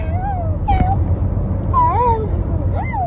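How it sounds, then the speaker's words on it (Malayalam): A cat meows several times close by, short rising-and-falling cries spread across a few seconds over a steady low background rumble. "പൂച്ച"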